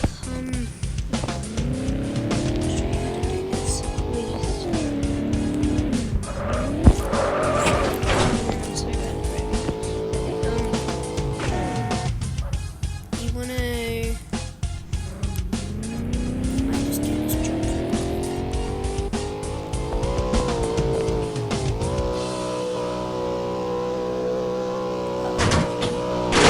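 Game audio from MadOut2 Big City Online: a car engine revs and shifts through rising and falling pitches while tires squeal, loud and continuous for the whole stretch, with a voice talking over it.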